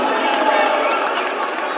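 A crowd cheers at a world arm wrestling supermatch, a steady loud roar of many voices with an announcer talking over it.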